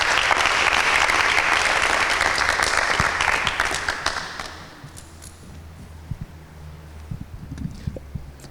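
Loud studio audience applause fills the first four seconds at a Bible quiz show after a correct answer, then fades into scattered claps and low room noise.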